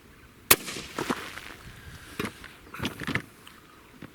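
A single sharp, loud shot from an M&P 9mm pistol fired through a row of four cans, followed by a few softer clattering knocks from the struck targets.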